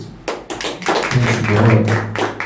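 Church congregation clapping for the Lord, a dense run of hand claps that swells and then carries on under singing or voices.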